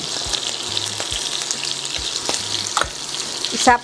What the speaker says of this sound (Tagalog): igigisa ko na po ang aking bawang